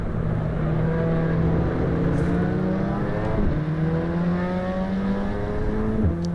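A front-wheel-drive hot hatch race car in AC EVO, its engine droning at a steady, moderately loud pitch with harmonics holding and briefly dipping at two gear changes, all alone with no talk.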